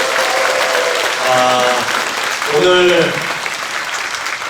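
An audience at a teachers' education event in Korea applauds, a loud, continuous wash of clapping under a voice speaking over it twice.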